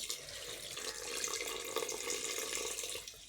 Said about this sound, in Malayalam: ഞാൻ ചൂടാക്കി വെച്ച വെള്ളം കേട്ടോ ഒഴിച്ച് കൊടുക്കണേ